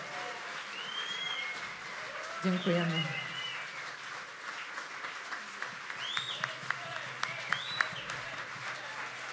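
Audience applause at a Chopin Theatre tribute evening honouring Wojciech Młynarski, a steady wash of clapping across the hall with a host speaking over it and a brief burst of louder voices near the middle.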